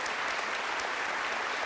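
Audience applause at a televised discussion, dense sustained clapping from a crowd, loud and even throughout with no talk.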